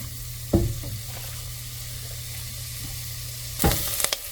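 Garlic sautés in a pan for curry pumpkin soup with a low, steady sizzle, broken by two brief louder scrapes of stirring, near and without talk.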